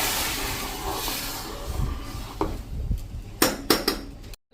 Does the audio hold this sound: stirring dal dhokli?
yes